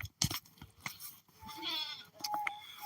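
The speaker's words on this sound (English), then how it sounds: "And this goat is so noisy." A goat gives one wavering bleat close by, set among sharp clicks and crunching noises. Everything is fairly quiet.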